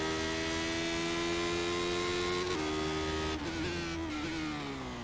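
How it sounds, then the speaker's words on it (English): Lotus 79 race car in iRacing, its engine holding a steady high-pitched note that drops in quick steps as it shifts down the gears, loud and continuous with no talk. "Let's listen to Kelly's engine note"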